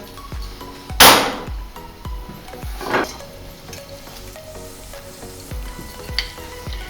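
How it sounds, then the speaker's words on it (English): Cacio e pepe pasta sizzles in a hot pan while it is tossed and stirred, with repeated clanks and scrapes of utensil on metal and a few sharp knocks. "Toss the pasta very well so that it combines itself"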